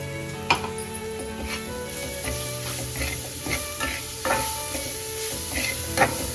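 Masala with green chili, garlic, salt and turmeric sizzles and fries in a pan while being stirred, a steady close crackle broken by occasional spoon scrapes and taps, with no talking.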